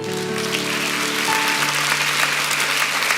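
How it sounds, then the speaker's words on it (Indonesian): Church congregation applauding for God, a steady wash of clapping with sustained tones from instruments or an organ underneath, moderately loud throughout. "kasih tepuk tangan untuk Tuhan"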